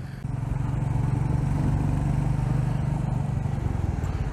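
A Royal Enfield Meteor 350 motorcycle idles and runs with a steady, low, thumping single-cylinder exhaust note, close and continuous throughout.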